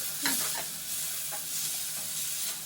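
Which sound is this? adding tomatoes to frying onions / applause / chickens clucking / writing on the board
adding tomatoes to frying onions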